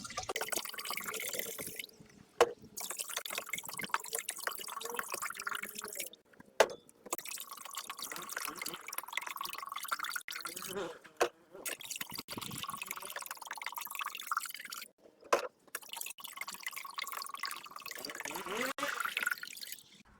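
Three percent hydrogen peroxide solution poured into a container, with liquid trickling and dripping in close, broken runs and brief pauses, plus a few light glass-like clinks.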